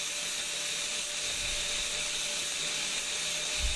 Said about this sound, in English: And then we're going to take a lot of that surface rust off. At least grind it down a bit.